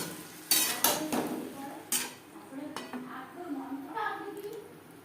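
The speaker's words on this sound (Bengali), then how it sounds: "এবার দিয়ে দেব মশলার পেস্ট যেটা আমি তৈরি করে রেখেছিলাম" Spice paste going into a pan for a fish curry with drumsticks and potato, a few sharp utensil clanks and scrapes against the pan up close, then softer stirring and a low sizzle.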